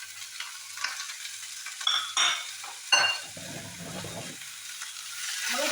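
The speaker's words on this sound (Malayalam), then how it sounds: "ജസ്റ്റ് ഒന്ന് വാട്ടിയെടുക്കുക ഇഞ്ചിയും എല്ലാം ഇട്ട് കൊടുക്കും" Ginger sizzling in a pan for egg oats dosa, a soft frying hiss broken by a few sharp metal spatula scrapes and clinks, close and fairly quiet.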